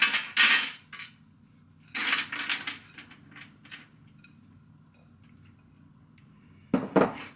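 Seasoned cashews tossed with olive oil, thyme and salt are spread into a roasting pan, giving short scraping and clattering bursts near the start and middle, then a quieter stretch and a final knock at the end.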